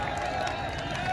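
Crowd at an Indian wrestling match, a dense continuous wash of clapping and cheering from many people with faint voices mixed in.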